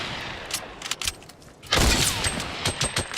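Green hunting rifle gunshots in a video game come as a cluster of sharp, rapid cracks with a louder boom partway through, dense and close in a noisy game mix.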